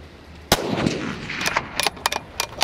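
A single sharp rifle report rings out from a Mauser M12 chambered in 6.5x55 Swede, followed by fainter clanks and knocks of the bullet striking a steel target outdoors.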